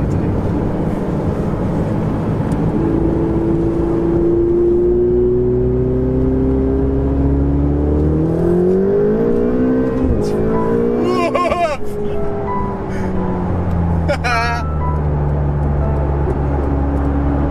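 A turbocharged Ferrari 488 sports car driven on the road, its engine droning steadily from inside the cabin, with the pitch climbing and surging during acceleration around the middle before settling back to a steady hum.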